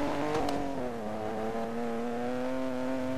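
Race cars from the PC game Need for Speed Most Wanted (2012) roar with a loud, sustained engine drone, the pitch dipping and then holding steady as an engine revs, with no talking.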